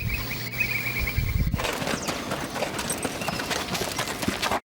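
A mare's hooves clip-clop steadily on the ground, close and fairly loud, over busy outdoor background noise.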